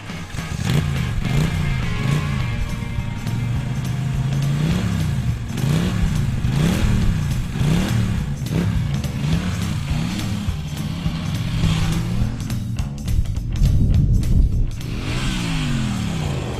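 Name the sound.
Norton Dominator motorcycle engine revving on the Montlhéry circuit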